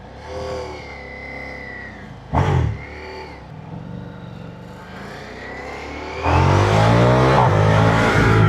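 A Ducati Diavel 1260cc motorcycle engine idles, gives one short sharp rev, settles back to a rumble, then roars into a sustained loud revving near the listener.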